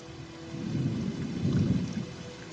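A thunderstorm in the northern Serengeti sends heavy rain hissing down while deep thunder rolls and swells twice, loud and rumbling beneath the steady downpour, with no voices present.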